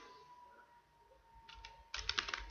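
Keystrokes on a computer keyboard, starting as a couple of light taps and then a quick burst of close, crisp clicks near the end.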